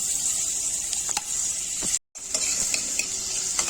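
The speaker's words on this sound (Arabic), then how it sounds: "انا حطيت كده البصلايه المبشوره الاول اهو يا بنات، كده بشوحها تشويحه كده بس" Grated onion sautés in butter and oil with a steady, close sizzle, broken by scraping stirs and clinks of a utensil against the pan, and a brief cut to silence partway through.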